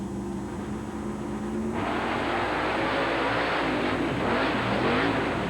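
A Chevrolet monster truck with cantilever suspension races in a coliseum arena, its engine roaring loud and rising into a sustained revving blast with no talk over it.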